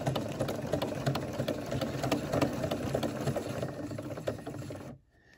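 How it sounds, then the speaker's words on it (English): Close and steady, a sewing machine straight-stitches across a fabric-wrapped rolled rope coil with a continuous rapid whirring clatter that runs for about five seconds, then stops abruptly. "I already have my presser foot down, so let's start with the straight stitch."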